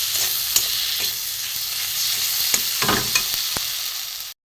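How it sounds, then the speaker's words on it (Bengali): Spices frying and being stirred in a pan for a river fish curry: a steady, close crackling sizzle with occasional scraping clicks of the stirring utensil, with no talking, before stopping abruptly. "ভালো করে কষিয়ে নিই, সুন্দর একটা সেন্ট ছেড়েছে বন্ধুরা মশলা ভাজা।"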